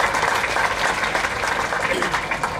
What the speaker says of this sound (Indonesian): Tepuk tangan dah